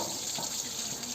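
Water gushes and splashes in a short, steady stream, like liquid spilling out of a container, fairly faint.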